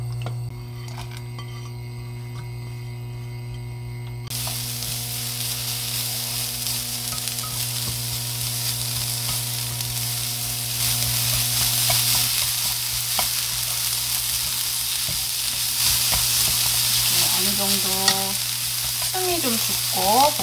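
Ingredients for a keto kimbap made without rice are stir-fried in oil in a pan, giving a steady, close sizzling hiss that swells partway through, with light scraping of a utensil near the end and no talking.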